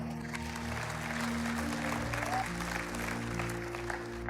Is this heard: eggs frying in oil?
no